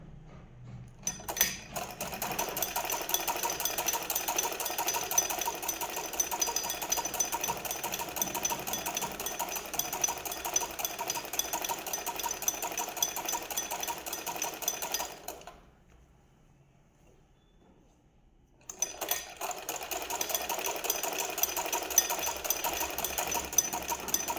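An electric sewing machine runs steadily, stitching along the seam of a garment in a continuous buzzing whir that stops abruptly for a few seconds of near silence before starting up again; no one speaks.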